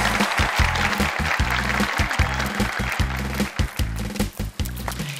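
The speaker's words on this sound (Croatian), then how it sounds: "Jedan veliki aplauz" A crowd applauds the introduction of a comic party leader on stage, the clapping mixed under loud, thumping backing music with heavy rhythmic beats.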